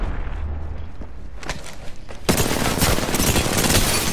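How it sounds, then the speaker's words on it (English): Rapid bursts of gunfire in the Apex Legends video game, then a sudden loud blast that opens into sustained, dense, close-range firing and explosive noise. "Grenade, watch out!"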